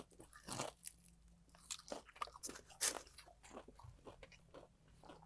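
Crunchy bites into crispy, seasoned fried chicken skin, with several loud close crackling bites followed by chewing, no talk.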